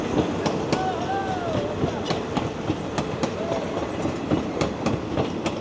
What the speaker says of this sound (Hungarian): és a vonat úgy látom, hogy most már lassan el is fog indulni